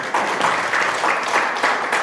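A congregation at a church prayer meeting applauds together, a dense and fairly loud burst of clapping that swells in uneven waves for a couple of seconds.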